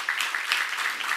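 Members of a Korean church congregation clap along during a sermon, an even stream of claps at moderate loudness with no voice on top.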